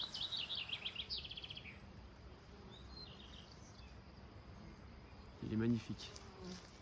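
A honeybee swarm found near a hive gives off a steady, faint insect hum, with a high buzzing at the start and a short louder burst near the end. A voice speaks briefly.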